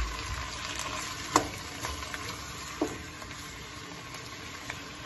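Chicken pieces frying in oil with paprika, pepper and salt over rising heat for a rice and curry dish, giving a steady soft sizzle with a few sharp crackles and a stir, alone without talk.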